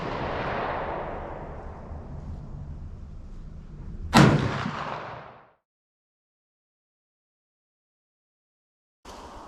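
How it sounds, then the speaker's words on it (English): A single loud shotgun blast from a Savage 220 goes off outdoors after a stretch of broad wind-like rush, its sharp crack trailing into a short decay before falling silent, with a brief noise at the very end. "You'll see the recoil on the next shot."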